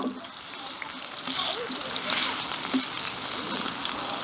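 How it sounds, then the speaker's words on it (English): Smash burger patties frying on a pan over an open fire, a steady close sizzle and crackle running throughout with faint background noise. "Allow it to fry for a while, and then I'm going to swap it, turn it around."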